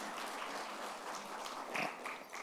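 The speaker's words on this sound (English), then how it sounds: "big round of applause for him" Applause for an honoured professional leader at a Union Budget 2023-24 impact analysis event, a faint, distant patter of clapping from an audience that stays steady through the moment and swells briefly near the end.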